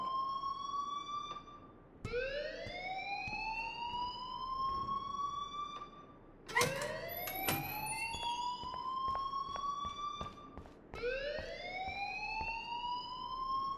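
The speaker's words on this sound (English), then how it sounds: "please turn off that alarm since that's your job" School alarm in the game Life is Strange, a loud electronic siren repeating in rising swoops roughly every four to five seconds, with a sharp burst of noise in the middle and no talking.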